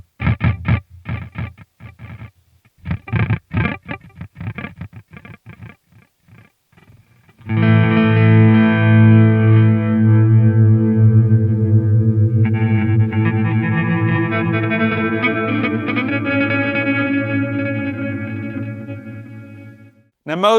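An electric guitar runs through a Walrus Audio LÜM pedal in grain mode. Short choppy plucks come first, then a sustained chord swells into a long shimmering, stuttering granular wash with repeating grains that slowly fades out.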